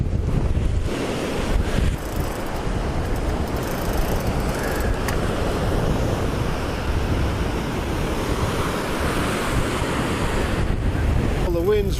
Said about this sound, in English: The wind's right in my face and it's really building.